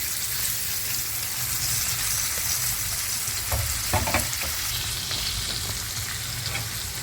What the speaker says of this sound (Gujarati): તો જો રાઈસ રાખી દીધા છે અને હવે આમ એને હલાવી લેવાનું છે એકદમ